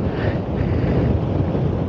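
Strong wind at Tarifa, Spain, buffeting a microphone, a constant low rumbling roar with no pauses and no voices.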